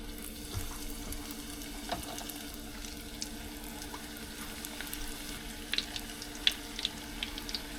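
Lumpia frying in a large pot of oil, a steady low sizzle with faint crackles and occasional pops, no voices.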